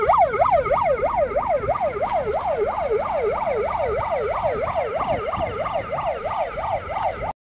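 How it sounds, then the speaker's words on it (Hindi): An ambulance travelling to a dargah sounds a loud, close wailing siren that sweeps up and down in a fast, steady cycle over road noise for the whole stretch. "पीछे रुपल रवाना हो रही है दोस्तों एम्बुलेंस के अंदर"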